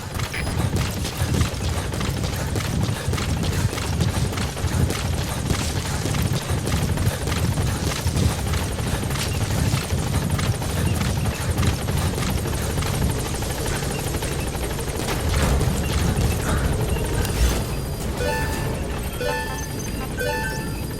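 A support helicopter arrives in the video game Metal Gear Solid V, its rotors chopping loudly and continuously with mechanical whine and rattles layered on top, and no talking.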